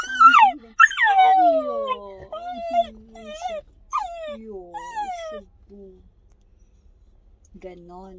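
A dog whimpers and whines repeatedly in high, wavering cries, close and fairly loud, trailing off into softer whines.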